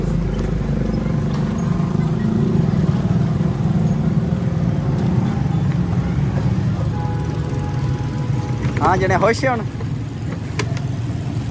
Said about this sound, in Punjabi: ਨਵਾਂ ਮੋਟਰਸਾਈਕਲ।